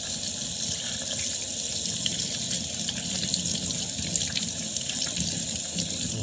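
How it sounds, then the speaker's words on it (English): Water runs from a kitchen tap to wash out a sink, a constant, close gushing splash that holds steady without pause and with no one talking. "You're gonna wash out the sink."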